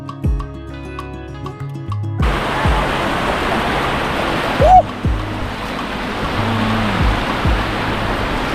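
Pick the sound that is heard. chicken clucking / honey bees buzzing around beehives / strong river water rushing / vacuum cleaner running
strong river water rushing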